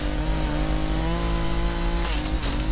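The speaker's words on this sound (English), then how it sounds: "Chainsaw, let's go!" A chainsaw in the video game Escape the Backrooms revs loudly and continuously up close, a harsh buzzing motor drone that briefly rises in pitch near the end, with no voices over it.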